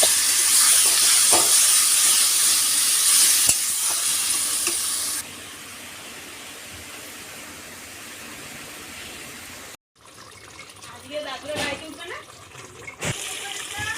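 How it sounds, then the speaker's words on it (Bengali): Marinated chicken with whole garam masala hits hot oil with a loud, hissing sizzle close by. The sizzle then drops to a steady, quieter frying hiss with occasional crackles and a brief cut. "একই তেলে গোটা গরম মশলা দিয়ে আগে থেকে ম্যারিনেট করা চিকেনটা দিয়ে দেবো।"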